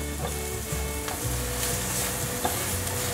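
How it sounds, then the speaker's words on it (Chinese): Carrots stir-fried with shiitake mushrooms in a hot pan, a loud continuous sizzle broken by repeated scraping and tossing strokes of a spatula, close up with no voices. "现在可以放入红萝卜了"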